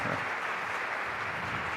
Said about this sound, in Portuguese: por favor, uma salva de palmas para a Ilona.